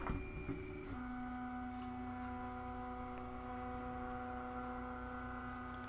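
An Anet 3D printer clone runs mid-print with a leaking nozzle, its stepper motors giving a steady droning whine with layered tones and a low hum throughout, close and continuous with no talk.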